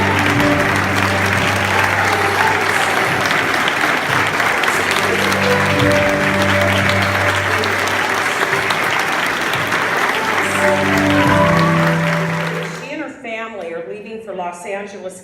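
Sustained, loud crowd applause and cheering, with steady music playing underneath, greets a guest; the clapping holds for about twelve seconds and then fades as a voice begins talking.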